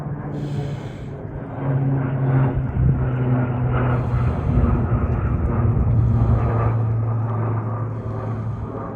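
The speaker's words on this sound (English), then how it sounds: "Tankers are flying right over the house." Firefighting tanker aircraft fly low over a house, a loud droning engine roar that swells and holds steady for several seconds, close overhead.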